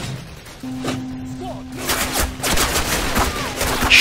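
Anti-aircraft flak gun firing in the war video game Call of Duty, a rapid burst of loud, booming shots over a background tone, with someone speaking briefly amid the fire.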